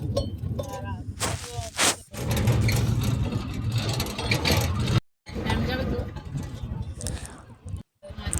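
An auto-rickshaw engine runs steadily through a ride along a road, a continuous mid-range drone with traffic noise and a couple of short dropouts, while a person talks over it.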